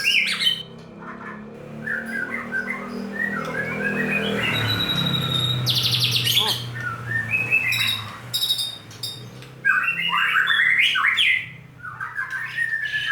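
A barat merah songbird sings loud, close whistled phrases, chirps and squawky notes in bursts, with a low background hum underneath.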